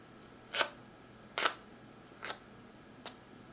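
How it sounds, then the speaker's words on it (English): A sharp stone blade flaked from a core slices through a scrap of leather in four separate short rasping strokes spaced under a second apart, close and quiet, with nothing else audible. "I'm going to just show you how easy it is to cut through leather"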